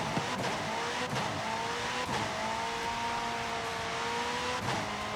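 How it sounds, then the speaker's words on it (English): An all-wheel drive McLaren Senna roars in Forza Horizon 5 with a sustained high engine drone and a few sharp shifts and pitch changes, loud and continuous with no talking. "I'm really enjoying this new all-wheel drive McLaren Senna."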